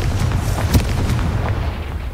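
A Confringo fire spell bursts with a booming explosion in the Hogwarts Legacy video game, a single sharp blast rising out of a dense, rumbling low-end bed of game sound.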